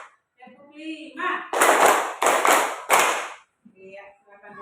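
A primary school class claps in unison during a lesson: three strong, close bursts of fast double claps in a steady beat, with voices talking briefly before and after.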